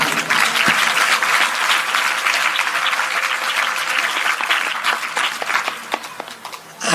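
An audience at a Hindi religious discourse and satsang claps loudly and continuously, a dense, close wash of applause that thins toward the end.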